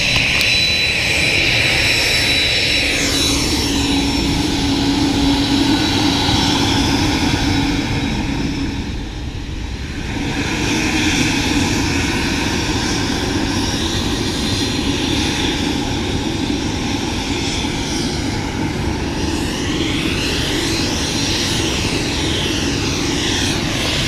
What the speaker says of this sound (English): Some private jet action is going on here.